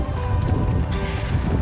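Steady wind buffeting a runner on a highway, a constant low rumbling roar of gusts against the microphone with no pauses or distinct events.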